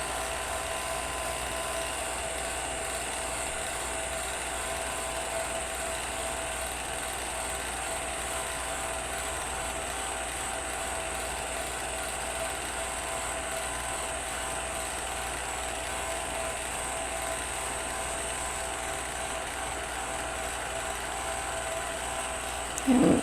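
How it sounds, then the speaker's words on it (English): A handheld heat gun blows hot air over wax paper in a craft image transfer, giving a constant, close, steady whirring fan roar with a high-pitched whine that goes on unchanged throughout. "keep your heat gun moving. And I can already feel that the wax is starting to melt."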